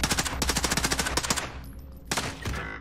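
Rapid, evenly spaced automatic-weapon bursts in a squad shooter video game, fired in a long stream, then a pause, then another short burst, all close and sharp.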